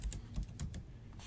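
Computer keyboard typing as a packet-capture filter is entered, several quick irregular keystrokes clicking close and clear with no talk.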